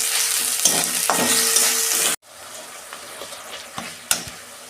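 Tomato frying in a pan with ginger-garlic paste, a loud steady sizzle with stirring scrapes that cuts off abruptly, then quieter crackling with a few sharp utensil knocks.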